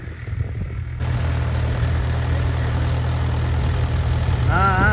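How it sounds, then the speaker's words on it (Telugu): A farm tractor used for rice paddy transplanting in a village runs with a steady, loud low engine drone, idling continuously throughout with no pauses, a brief whistling tone appearing near the end. "మా ఊళ్ళో ఒక ట్రాక్టర్ ఉంది ఈ ట్రాక్టర్ మాకు చాలా ఉపయోగపడుతుంది"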